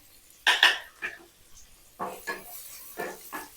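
Chopped onion goes into hot oil in a pan, giving a close sizzle with several sharp bursts of stirring and spatula scraping against the metal, spaced about a second apart.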